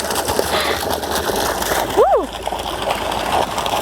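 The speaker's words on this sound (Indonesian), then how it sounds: "ini adalah salah satu pancuran yang ada di pemandian Pulau Batu ini pemirsa" Water pours from a shower spout at the Pulau Batu bathing spring in Siantar Simalungun, a steady close rush and splash. Someone talks over it, and a brief whistle-like chirp rises through it partway.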